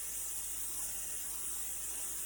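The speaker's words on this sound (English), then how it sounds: "spray the top either with Pam or you can do an egg wash" A continuous hissing spray of Pam cooking spray over the top of a shaped calzone, steady and close without pause.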